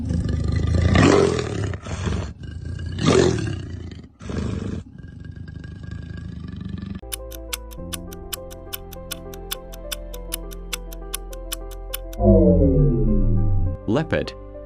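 A leopard gives a series of deep, rasping roars, loud and close, broken by pauses, followed by a steady ticking like a countdown clock.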